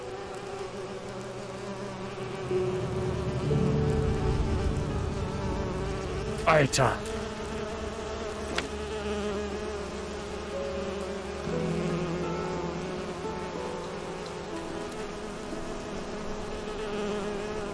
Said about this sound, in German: Wo ist die Biene?